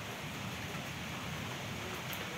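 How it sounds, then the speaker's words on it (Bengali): Rainwater drips and patters steadily inside a storm-damaged house whose kitchen roof has blown off, a dense continuous hiss with no voices over it. "এইদিকে জল পড়ছে"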